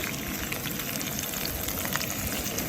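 Green vegetables sizzling in a pan over a camp stove for a breakfast of scrambled eggs, a steady dense hiss and crackle that holds evenly throughout, close and fairly loud with no voices.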